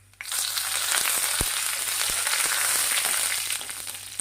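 Curry leaves hit hot oil with dried red chillies and mustard seeds in the pan, for a tomato curry. A sudden loud burst of spitting sizzle holds steady with sharp crackles, then eases off near the end.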